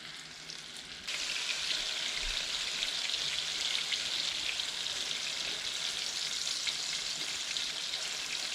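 Thin strips of cod frying in a hot pan, a steady loud sizzle that starts abruptly after a quiet second and holds evenly to the end with no talking.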